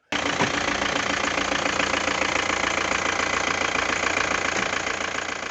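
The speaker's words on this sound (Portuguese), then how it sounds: "eu assustei um pouco com aquele som de caminhão do motor diesel" A diesel Fiat Ducato van engine idles steadily nearby, with a low rattling knock that stays even from start to end.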